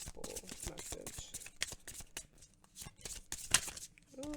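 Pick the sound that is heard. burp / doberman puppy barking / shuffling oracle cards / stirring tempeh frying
shuffling oracle cards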